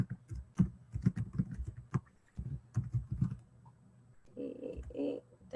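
Typing on a computer keyboard: a close, irregular series of clicking keystrokes in bursts with short pauses, and a voice murmuring briefly near the end.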